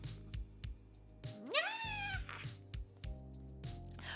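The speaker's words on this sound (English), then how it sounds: "That's how cats sound at night. They don't say nya." A cat yowls at night in a long rising, wavering cry, loud and close, set against rhythmic background music with short bursts around it; no talking.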